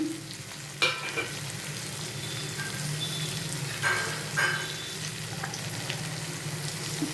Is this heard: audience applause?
no